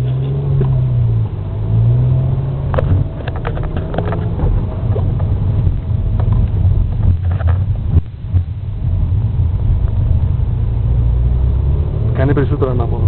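A car departs on a snow and ice driving course at Bourg-St-Pierre, Grand-St-Bernard, its engine a steady loud rumble with revving throughout, while people talk nearby.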